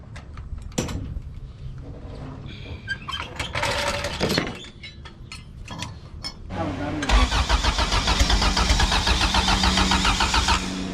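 A turbocharged front-wheel-drive Honda car engine cranks amid clattering and shop noise, then fires up loudly and settles into a rough, steady idle close by. People talk over the early part.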